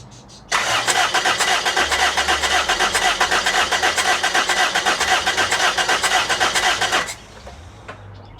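A Toyota Matrix XR with a replacement LKQ 1ZZ engine cranks and fires up, running with a fast, even, loud pulsing for about six seconds before it shuts down abruptly.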